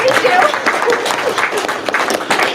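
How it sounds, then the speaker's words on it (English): Audience after a research presentation gives a short, steady round of applause, clapping filling the room with a few voices mixed in. "You can clap. It's okay."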